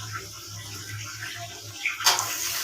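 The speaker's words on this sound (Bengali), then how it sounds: "এখন আমি পরিমাণ মতো পানি দিয়ে দিব।" Water is poured into a pot of braised chicken and potato curry, a short splashing gush near the end over a quiet kitchen background.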